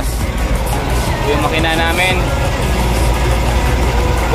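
The 40R5 engine of a fishing boat out for bluefin tuna, running with a loud, close, steady rumbling drone throughout, while voices talk over it.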